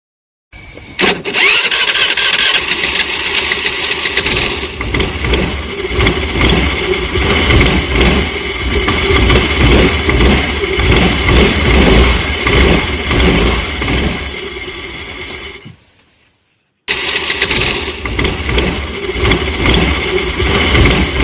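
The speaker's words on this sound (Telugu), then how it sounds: "ఒకసారి స్కూటర్ని ఆపు." A scooter engine runs loud and close with a steady, rough drone for about fifteen seconds, cuts out briefly, then starts up and keeps running.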